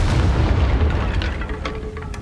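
A Confringo fire spell explodes in a Hogwarts wizarding game with a loud, deep rumbling boom that rolls on and gradually fades, with faint crackling debris over the tail.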